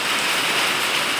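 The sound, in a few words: heavy rain falling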